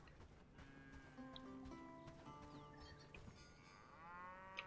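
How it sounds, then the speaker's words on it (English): Cattle in the medieval village-building game Bellwright low repeatedly, a herd of overlapping moos at moderate distance over a soft outdoor ambience, with no talking. "Oh, look at the cows."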